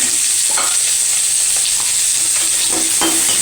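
Snake gourd sizzles loudly with tomato and curry leaves in a hot pan, a steady crackling fry with occasional stirring scrapes throughout.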